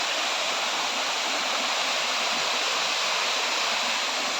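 Water of a stream flows over stones in a steady, loud, close rushing wash that fills the whole stretch with no pauses.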